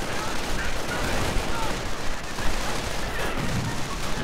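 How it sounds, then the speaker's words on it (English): A video game battle with grenade explosions and gunfire produces a dense, continuous crackle of shots and muffled blasts, with indistinct voices mixed in. "Grenades getting dropped left and right."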